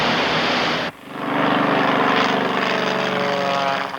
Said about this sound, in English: Light aircraft and helicopters water bombing as bulldozers cut fire breaks